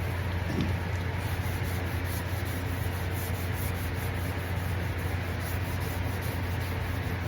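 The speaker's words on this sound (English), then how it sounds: "So we're going to wet sand that now with a little 600." Wet sanding of a Saab's car paint by hand with 600-grit paper on a 6-inch finishing pad: a steady, continuous close-up rubbing and scrubbing with no pauses.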